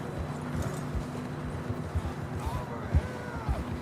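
Horses clip-clop along in Red Dead Redemption 2, a steady rhythm of hoof beats, close and moderately loud, with a brief voice or whinny over the hooves toward the end.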